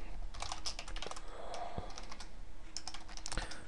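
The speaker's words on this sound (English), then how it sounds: "I'm just going to start typing a C++ program" Someone types on a computer keyboard in quick, irregular bursts of sharp clicks, close up, with short pauses between runs of keystrokes and no talking.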